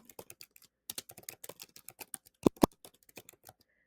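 Rapid keystrokes on a computer keyboard, a steady run of close, crisp clicks with a couple of louder heavier key presses near the end, then a brief pause and a few last taps.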